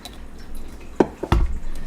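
Apple cider poured into a baking mixture for a donut cake gives a few splashing, gurgling bursts over quiet background, close and fairly loud.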